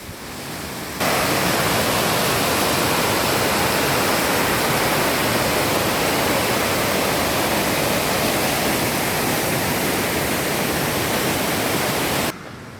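Girlevik waterfall in Erzincan, Turkey, gives a loud, steady, broadband roar of falling water that starts abruptly after a second and holds unchanged until it cuts off near the end.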